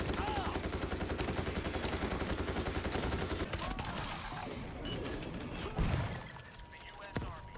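Rapid bursts of gunfire in the zombie shooter World War Z: Aftermath, in first-person view, sounding as dense, steady automatic fire over the first few seconds and then thinning out, with players talking over it.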